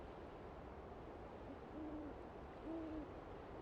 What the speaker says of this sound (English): Heard a hootie owl